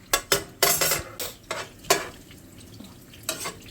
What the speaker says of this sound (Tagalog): Luto mo muna konti yung bawang.